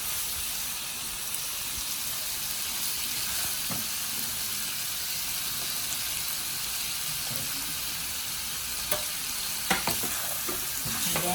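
Carrots stir-fried for pancit, a steady close sizzle and hiss in the pan with occasional clicks and scrapes of stirring, no voices.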